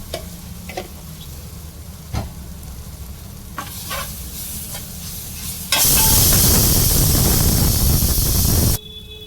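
Freshly pounded ginger garlic paste hits hot oil in a pan while making spicy boti fry, first light stirring clicks, then a loud, sustained close sizzle that cuts off abruptly.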